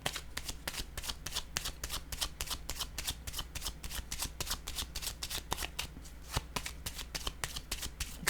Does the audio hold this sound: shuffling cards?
yes